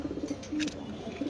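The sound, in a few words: racer pigeons cooing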